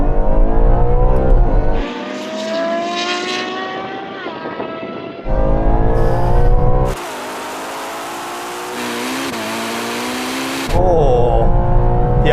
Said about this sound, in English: now we're going to have a rolling race from 30 miles an hour to the half mile